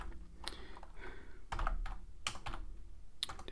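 Typing on a computer keyboard: a few close, crisp key clicks and a heavier burst of keystrokes, sparse and irregular, with quiet room tone between and no talking.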